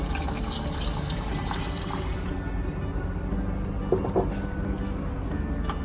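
Hot water pours steadily into a pot of rice for a home-cooked vegetable biryani, a continuous close watery rush with a brief splashy burst near the end.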